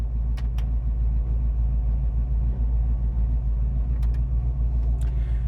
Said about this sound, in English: The car's idling nicely.